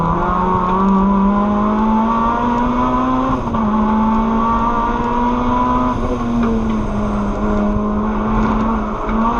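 Racing cars lapping a circuit in Class A and Class B competition, a Honda among them, with one close engine droning steadily at high revs, shifting pitch slightly through the bends, loud and continuous for the whole stretch.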